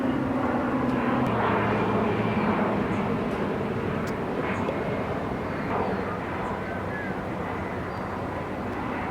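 An airplane drones steadily overhead, a loud, continuous broadband engine roar that holds level and eases slightly toward the end, with no talk.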